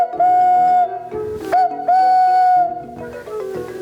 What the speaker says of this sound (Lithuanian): Ir molinis žaisliukas švilpukas švilpia.